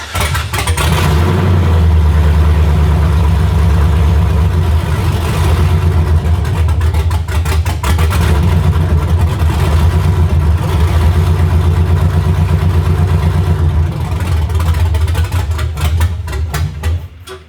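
A loud 2004 Chevy Silverado engine with a stage 4 cam and long tube headers roars and revs continuously, rising and falling in pitch with rattling, throaty bursts close to the microphone.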